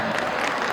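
Audience applause at an Armenian celebration, a brief, dense burst of many hands clapping with no pauses.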